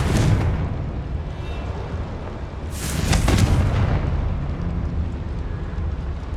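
In Hogwarts Legacy, a Confringo fire spell bursts inside a mine, a loud rumbling blast with a sharp crackling flare partway through over a constant low boom-like roar, no talking.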